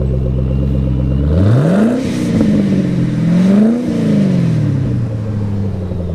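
A Chevrolet engine on a chassis dyno at a Chevrolet car show, making about 600 horsepower at the wheels, revs up loud and close, its note climbing and dropping through two big sweeps before settling into a steady high drone.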